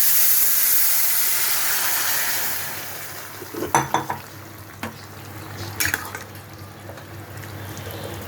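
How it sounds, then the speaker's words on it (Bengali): Bottle gourd goes into hot oil tempered with radhuni seeds, setting off a loud, close, hissing sizzle that gradually settles while a spoon clatters against the pan a few times as it is stirred. "এখন আমি এই লাউটা এই ফোড়নের মধ্যে ঢেলে দিই"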